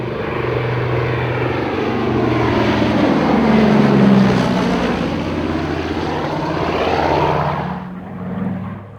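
A WW2-era Catalina flying boat passes low and loud overhead, its propeller engines droning heavily with a rising and falling pitch throughout before fading slightly at the end.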